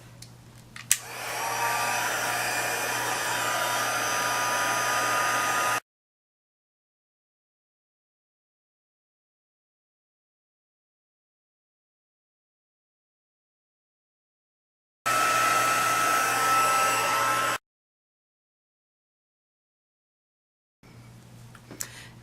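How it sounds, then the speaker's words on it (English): A handheld heat tool blows a steady, loud whirring roar while it melts embossing powder. It runs in three bursts separated by dead silence: a long run at the start, a shorter one in the middle, and a brief restart at the end. No voices are heard. "Now I'm going to take my heat tool and just heat this up."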